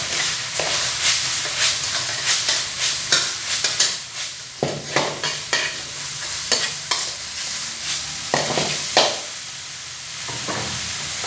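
Minced pork and beef stir-fried with holy basil leaves in a hot pan, with repeated scraping strokes of a spatula every half second or so over a continuous sizzle, close and clear.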